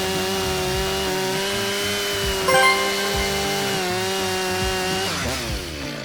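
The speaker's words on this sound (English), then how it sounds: "tilt the chainsaw up slightly and drive it across" A chainsaw runs at a steady high whine while cutting wood during tree felling with wedges, loud and close, with a brief bump in load and the pitch dropping at the end.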